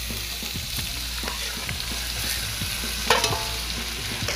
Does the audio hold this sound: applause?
no